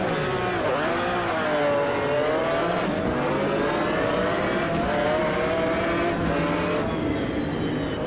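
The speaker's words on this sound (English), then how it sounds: "McLaren F1 V12." McLaren F1 V12 engine at Silverstone in the racing game Automobilista 2, a loud continuous howl rising and falling through gear changes as the car accelerates, with no voices.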